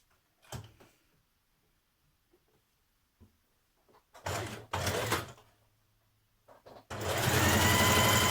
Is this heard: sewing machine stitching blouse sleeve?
yes